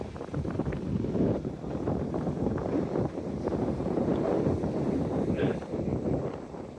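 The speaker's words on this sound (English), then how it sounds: "Very windy beach." Strong wind gusts across Southbourne beach, a steady, loud rushing roar buffeting the microphone throughout with no break.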